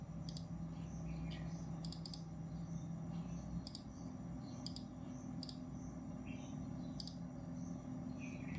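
Sharp computer mouse clicks sound in scattered pairs and singles, quiet and close, over a steady low background hum.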